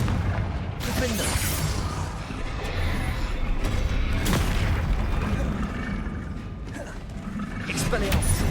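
Spell blasts cast in Hogwarts Legacy boom and crackle over a constant, busy wash of combat noise, with repeated rumbling hits and mechanical-sounding clatter across the stretch.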